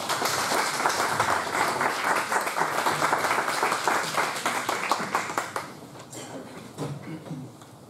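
A conference audience gives a speaker loud, dense applause that holds strongly for about five seconds, then thins and fades away, with a few voices left murmuring at the end.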